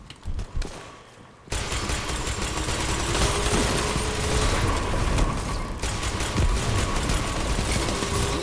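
Rapid automatic fire from an auto rifle in a first-person shooter game, with a brief quiet patch before a dense, sustained burst of loud rattling shots running on without pause.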